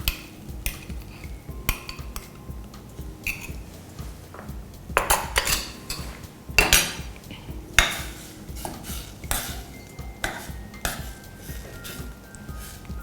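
Fermented soybean paste is stirred into boiling coconut milk in a pot, with a spoon scraping and clinking irregularly against the metal, close and fairly quiet, with no talking.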